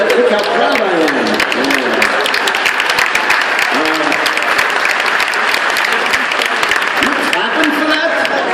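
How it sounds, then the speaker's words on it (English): Audience applause fills a Brazil Comic Con 2014 panel hall, steady, dense clapping from a large crowd that runs throughout without a break, loud and close. "Clapping for that?"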